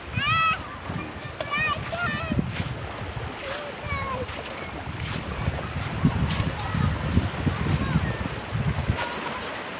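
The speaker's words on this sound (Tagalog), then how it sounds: "Yan pa ngayon malakas na ang hangin uli." Strong, steady southwest monsoon wind rushes across the microphone on a beach, with voices calling and talking over it and a few high-pitched shouts early on.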